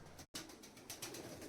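A special pigeon cooing up close in a series of soft, throaty pulses with a short gap near the start, no talking over it.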